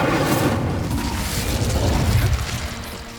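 An Incendio fire spell cast in Hogwarts Legacy, a loud whooshing burst of flame with booming rumble that slowly fades.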